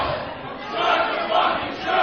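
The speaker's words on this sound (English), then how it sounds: "and you can listen to the crowd" A live crowd at a radio broadcast event roars and cheers in a sustained, swelling mass of voices, heard through a muffled, band-limited microphone.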